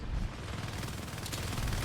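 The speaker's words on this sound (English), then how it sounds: "That is a shotgun" Rapid, dense gunfire bursts from a shotgun in the Natural Selection 2 video game, a steady clattering barrage lasting under two seconds at moderate loudness, with no talk.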